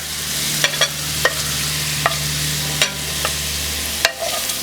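Shrimp searing in a hot frying pan, a steady loud sizzle with several soft clicks and scrapes of stirring or turning, no voices.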